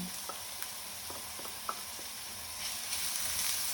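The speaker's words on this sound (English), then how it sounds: "add in your red pepper or red capsicum into the pan" Red capsicum hits a hot pan and is stirred, making a soft, low sizzle with several light taps and scrapes, followed by a rising hiss at the end.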